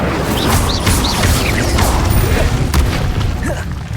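An Incendio spell blast in Hogwarts Legacy booms as a dense, rumbling burst that lasts several seconds, loud and close, with faint crackling mixed in.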